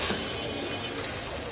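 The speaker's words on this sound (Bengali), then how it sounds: "আগে এটাকে সুন্দর করে একটু মিক্স করে দিই" Turmeric and coriander powder are stirred into a sizzling frying pan, a steady close hiss of frying with soft scraping from the spoon throughout.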